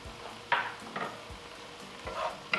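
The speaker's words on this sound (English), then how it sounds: "We will just let these saute up for a bit." Vegetables sautéing in a pan with Italian seasoning, garlic powder, parsley, red pepper flakes and salt, giving a soft, quiet sizzle broken by a few sharp scraping stirs.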